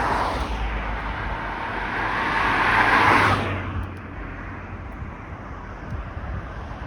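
A city bus, the 42 East route, passes along a suburban road near Derry Road and the airport in Malton, its rumble and tire noise swelling as it goes by, then fading into steady traffic and wind.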